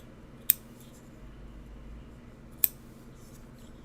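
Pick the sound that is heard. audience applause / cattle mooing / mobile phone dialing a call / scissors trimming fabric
scissors trimming fabric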